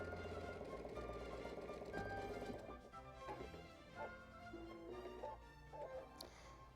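A home sewing machine stitches a quarter-inch seam in a steady, fast hum. Partway through, the motor runs on and off in short bursts with a mechanical whir. It sounds close and fairly quiet.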